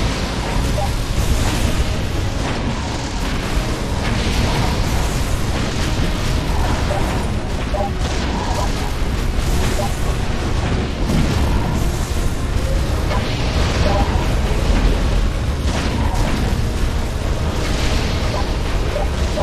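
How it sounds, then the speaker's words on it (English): Cannon fire and explosions from the PC tower-defense game Defense Grid 2, Mission 19 "Out of Control", form a dense, loud, continuous barrage of booms and bursts with no pauses. "That's what a cannon's made for."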